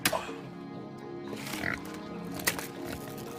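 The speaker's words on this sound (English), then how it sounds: "It's time to go feed some pigs." Pigs grunt and oink at feeding time, a loud, rough, overlapping chorus of snorts and squeals close by, with sharp bursts standing out at a few moments.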